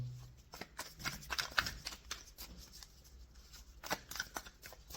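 Tarot cards riffle and slap in a quick, irregular shuffle, close and crisp, with brief pauses between bursts and no talking.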